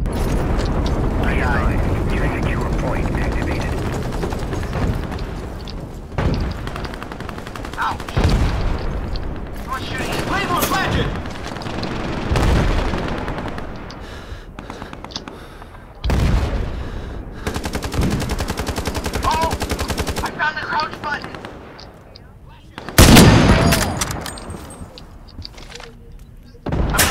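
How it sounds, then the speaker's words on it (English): Repeated sniper rifle shots and heavy booms ring out in an Ironsight online shooter match, loud bursts spaced irregularly among other gunfire and explosions, with a player talking throughout. "Oh, that's a sniper again."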